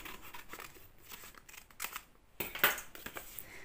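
Scissors slice through a sealed paper envelope, cutting it in half with a few close, crisp snips and a rustle of paper.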